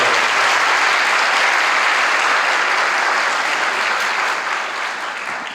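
A church congregation at Sunday Mass breaks into loud, dense applause that stays strong and even, then gradually fades toward the close.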